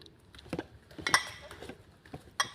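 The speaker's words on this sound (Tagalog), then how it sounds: "Unang trabaho natin ay maghuhugas ng mga plato." Dishes being washed at a kitchen sink: scattered clinks and clatters of plates and cutlery, a few sharp knocks among softer handling noises, fairly close and moderately loud with no talking.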